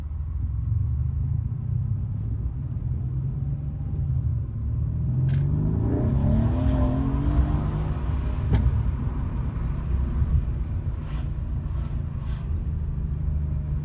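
A Mercedes C63s (W205) on the move, with a steady low engine and road drone, a rising rev sweep in the middle as the transmission shifts, and faint jingling clicks over the hum.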